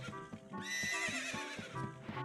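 Horses in Zelda: Ocarina of Time neigh loudly in a long whinny, with clip-clop hoofbeats around it, heard alone and close.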